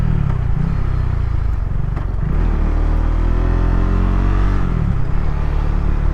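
KTM 690 SMCR single-cylinder supermoto, 2024 model, ridden hard with its engine revving loud and continuous, pitch rising and falling through gear changes, close and steady throughout with no talking.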